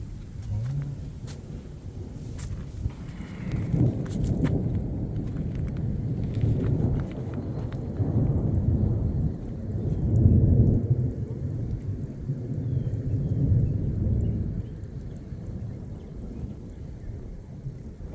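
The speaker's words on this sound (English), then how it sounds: "It's just non-stop rumbling. Non-stop." Thunder during a storm on a camping trip near Rushmore and Yellowstone: continuous low rolling rumbles swelling and fading over steady background noise, no talk.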